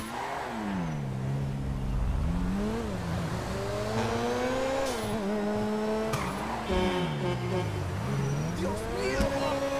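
A tuned, fully specced supercar engine in GTA 5 revs and shifts through gears continuously, its pitch climbing and dropping in steady waves with brief tire squeal, loud and close throughout.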